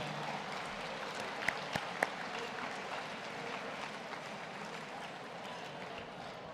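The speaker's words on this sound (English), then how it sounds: "I think we can give a big round of applause to the chef this evening and their team, David Hollins and Keith Johnny Knapp." Banquet guests at a formal dinner applaud the chef and kitchen team, a steady wash of clapping filling the room at moderate level, with a couple of sharp knocks standing out.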